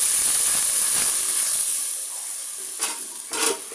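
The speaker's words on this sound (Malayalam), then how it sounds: "ഇനി നമുക്ക് ആവശ്യത്തിനുള്ള വെള്ളം ചേർത്ത് കൊടുക്കാം." Water poured into a hot pan of fried masala bursts into a loud hissing sizzle that slowly fades, followed by a couple of short spatters near the end.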